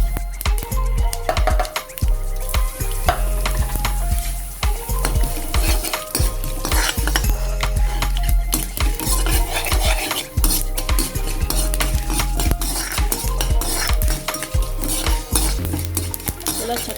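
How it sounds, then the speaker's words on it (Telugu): Tempering spices crackle as they fry in a pan for a cucumber and moong dal dish, giving a close, loud, steady sizzle with rapid popping, scraping and clinking of a utensil against the pan throughout. "చూసారా సౌండ్ ఎలా వస్తుందో, టక్కటక్కమంటే అలా టక్కటక్క వచ్చేసరికి వేయించుకుని వేసేసుకోవాలి"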